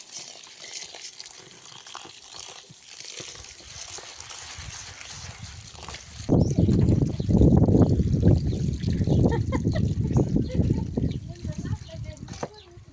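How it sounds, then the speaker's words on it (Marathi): Flattened rice (poha) being rinsed in clean water, with trickling and sloshing water that starts softly and grows louder and busier in the second half, close by. "आपण हे पोहे मी असे स्वच्छ पाण्याने धुवून घेणार आहे"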